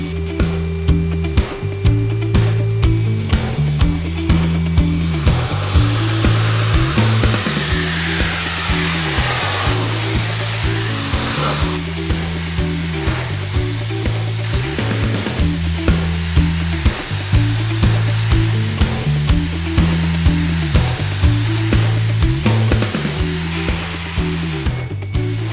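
A paint spray gun lays clear coat onto kitchen cabinets, giving a loud, steady hiss of air and atomized finish that runs continuously over a repeating mechanical hum, with no talking.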